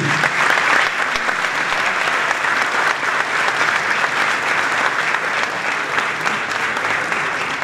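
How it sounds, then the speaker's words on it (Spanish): An audience at a talk about the Malvinas war applauds a war veteran with loud, sustained, thick clapping that holds steady throughout. "Un aplauso para este veterano."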